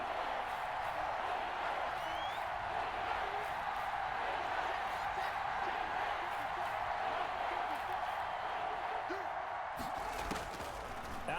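Steady crowd roar from a Madden NFL video game broadcast of a football match, building ahead of a big third down, a continuous loud wash of cheering with no break throughout.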